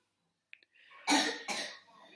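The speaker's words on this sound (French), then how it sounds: "Vous l'entendez, il tousse pas mal encore" A child coughs twice, close and fairly loud, a harsh wet cough after a short intake of breath, from a lingering cough.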